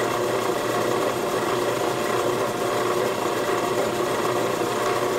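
Power tool grinding burrs off the flat head and sides of a pinewood derby car axle, a steady, loud, continuous whir with a mechanical hum that holds unbroken throughout, no talking.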